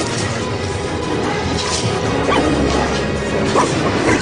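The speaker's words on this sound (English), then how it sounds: "Hercules wrestles the dog to the ground." Staged sound effects for Hercules wrestling the hellhound Cerberus: loud crashing impacts and thuds mixed with barking, yipping and whimpering from a dog, dense and chaotic throughout.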